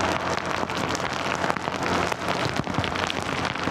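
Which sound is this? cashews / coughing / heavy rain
heavy rain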